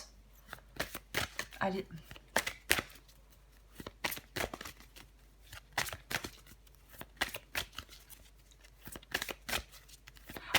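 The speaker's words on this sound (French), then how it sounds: "Je tire encore une dernière carte pour vous, les balances." Tarot cards are shuffled and drawn from the deck in quick papery riffles and flicks, repeating in short irregular bursts close by, while someone speaks softly throughout.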